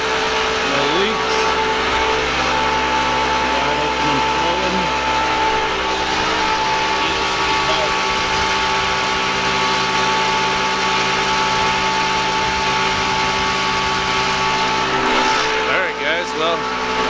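The unloading pump on a propane transport truck runs loud and steady with a constant droning engine hum and a mechanical whine throughout, while a person talks over it.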